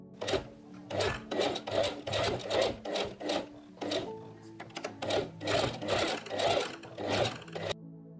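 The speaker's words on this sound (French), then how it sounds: "Je vais ensuite piquer par ici avec la machine." A sewing machine stitches organza fabric into corset straps in repeated short runs of rapid needle chatter, close and steady, with brief pauses between runs and no talking.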